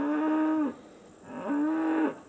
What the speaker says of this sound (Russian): Не, это бык стоит.